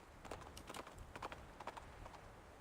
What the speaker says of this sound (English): The communicators noise started the nibbling horse. It lifts its head and bolts into the distance.